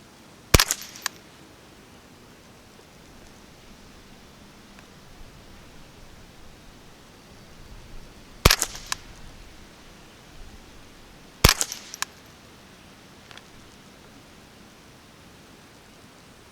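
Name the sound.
Ruger 10/22 rifle firing CCI Quiet ammunition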